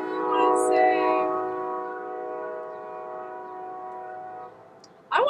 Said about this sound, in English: just look maybe a little bit if you care about train noises, because this is not the first time that we've had this